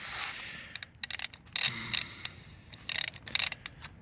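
Ratchet socket turning a 13 mm transmission drain bolt on a 2004 Dodge Ram 3500 NV4500, giving close, crisp bursts of rapid clicking in short groups with pauses between.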